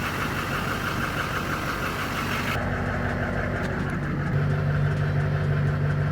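A Duramax diesel truck engine idles steadily while warming up, a close, continuous low rumble with a steady hum that firms up slightly toward the end.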